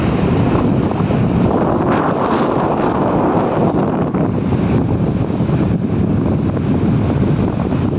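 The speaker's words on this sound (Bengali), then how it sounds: "শুধু ঢেউ আর ঢেউ।" Sea waves rolling onto Suvali beach near Surat, a steady broadband roar of surf heavily mixed with gusting wind buffeting the microphone, continuous and loud with no voices.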